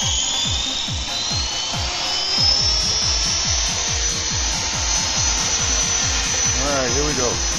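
A small motor whines steadily with a rapid buzzing pulse, an XHeli Blue Ray RC helicopter flying nearby at night, holding a fairly constant loud drone throughout.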